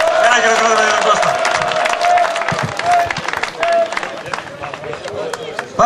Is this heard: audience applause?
yes